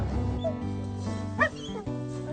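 Hunting dogs barking and yipping as they are let loose, a few sharp barks rising over a steady low engine-like hum, fairly near.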